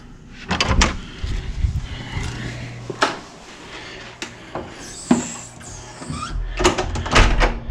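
Hotel room door at a Fairfield Inn being unlocked and opened, a series of close clicks, latch clunks and knocks with brief rustling between them, fairly quiet and with no speech.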